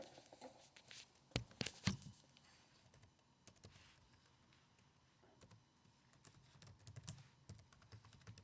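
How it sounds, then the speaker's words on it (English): Typing a username on a computer keyboard, with a few clustered bursts of quick key clicks and softer, scattered keystrokes through the rest, close and fairly quiet. "you have to type in your username and everything"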